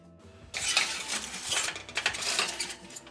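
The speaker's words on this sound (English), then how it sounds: "we're just gonna put this in the oven" A metal baking tray of granola slid into an oven, a bright scraping clatter of metal on the oven rack, fairly close and with no talking.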